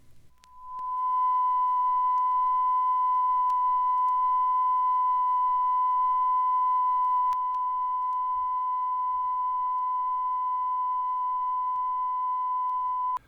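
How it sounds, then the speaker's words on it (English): A steady 1000 Hz sine wave test tone played from a test record through a Rolls phono preamp, a single continuous pure beep held loud and unbroken for about twelve seconds after a short fade-in. "Band 2, 1000 cycles per second sine wave test tone."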